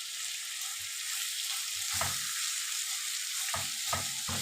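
Meat sizzles and spits in a hot pan while being stir-fried for Egyptian green beans, a continuous bright hiss broken by a few soft scrapes and stirring knocks.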